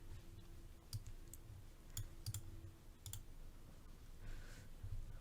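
A computer mouse clicks in CAD software, a handful of sharp, irregular clicks spread over a few seconds against a quiet background with a faint hum.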